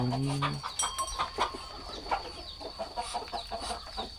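Chickens at a farm coop cluck in short repeated bursts, with a higher bird call near the start and steady chatter of the flock throughout.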